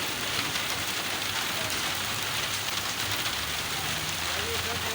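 A downpour drums steadily over a Pindi neighbourhood street, a thick unbroken wash of rain noise at constant loudness, with faint voices beneath it.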